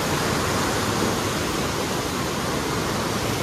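A steady, loud roar of rushing water on the Koshi River at the Koshi Barrage during high water, with 45 gates open, constant and close, with no voices over it.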